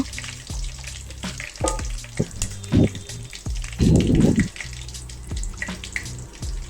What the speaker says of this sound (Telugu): ఇప్పుడు ఇందులో మనం నువ్వుల్ని వేసి వేయించుకుందాం.